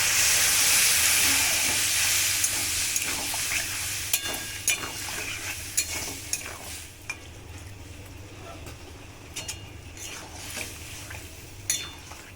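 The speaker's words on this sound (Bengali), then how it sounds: "এবার জল দিয়ে দেব সেদ্ধ হওয়ার জন্য দিয়ে দিচ্ছি জল" Water hits a hot pan of jackfruit curry, and a loud burst of steam and sizzle fades into a gentler bubbling hiss, with scattered clicks of stirring throughout.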